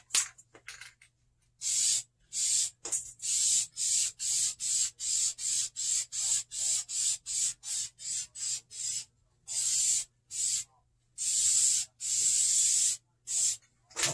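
A spray can of vinyl and fabric paint hisses in repeated short bursts over car seats, about two dozen close, loud sprays in an uneven rhythm with brief gaps and a few longer passes.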